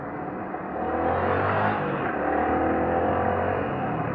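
Steady engine drone and passing-car whir in slow, congested street traffic heard from a moving motorcycle, a continuous close rumble with a mild rise in level after the first half second and no talking.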